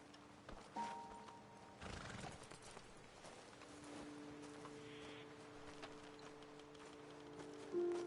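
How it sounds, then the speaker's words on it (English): Horses in the Red Dead Redemption 2 video game neigh and whinny faintly with soft hoof clops and shuffling in a quiet outdoor scene, a louder whinny at the end. "Best leave the horses back a bit."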